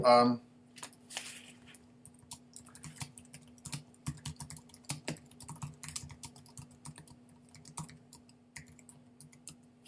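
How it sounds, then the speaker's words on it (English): Quick, light clicks of fingers typing on a computer keyboard, fairly close and quiet, coming in irregular bursts over a steady low electrical hum. "let me just type Will a question, an answer"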